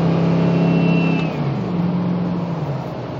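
A 2004 Ford F-150 pickup with the 4.6-liter engine accelerates from inside the cab, a steady mid-range engine hum with a gear-like pitch shift midway, continuous and fairly loud with no talk.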